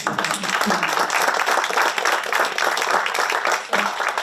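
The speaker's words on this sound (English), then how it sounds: "I think he deserves a round of applause for that." An audience gives a round of applause at a panel event, with dense, steady clapping from many hands that stays loud and continuous throughout, with faint voices mixed in.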